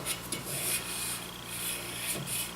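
Quiet, steady rubbing and rasping of 100-grit sandpaper on a wooden No. 7 hand plane handle, a soft continuous scratch with gentle surges, close by.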